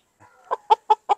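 An Indio Gigante chicken clucks close by, four short, evenly spaced clucks in quick succession after a faint soft call.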